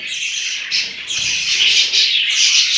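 Budgies in a home breeding cage squawk and chirp, a shrill, continuous chatter from several birds close by, with brief dips in the din.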